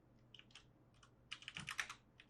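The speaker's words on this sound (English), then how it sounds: "I can hear the DM typing" Computer keyboard typing during an online tabletop role-playing session: a few scattered keystrokes, then a quick dense burst of clicks, faint and close with no voices over it.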